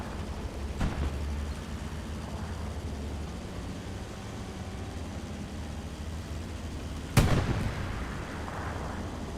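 Rockets strike a Panzer IV tank in Hell Let Loose on Utah Beach, a sharp loud blast near seven seconds breaking through a steady rumble of engine and distant battle noise, with a fainter thump earlier.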